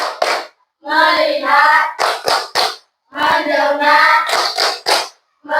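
A fifth-grade elementary class does its "tepuk fokus" clapping routine, with sharp rhythmic bursts of hand claps alternating with loud group chanting in a classroom.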